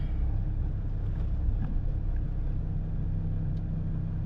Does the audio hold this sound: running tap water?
no